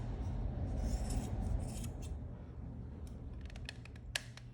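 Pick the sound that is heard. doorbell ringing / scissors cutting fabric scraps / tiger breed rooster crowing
scissors cutting fabric scraps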